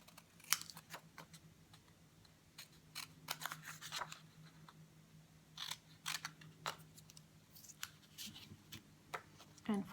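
Scissors snip through paper to cut out a square, giving a string of short, crisp cutting sounds at an irregular pace, moderately close and fairly quiet.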